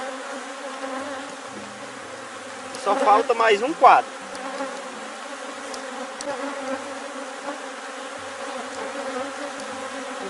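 Bees hum steadily on a frame lifted from a hive while a colony is split in two, with a louder burst of buzzing near one moment over the constant drone, and someone speaks briefly.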